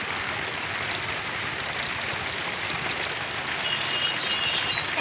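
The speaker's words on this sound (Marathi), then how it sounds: "भरकसा पाऊस चालू आहे." Heavy rain pours down outside a house in a continuous, even hiss that stays constant and fairly loud throughout, with no talking over it.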